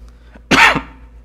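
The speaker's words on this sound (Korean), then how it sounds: "기침했네요." A single sharp cough cuts through a quiet room during a Korean church sermon, close and loud, preceded by a faint throat sound.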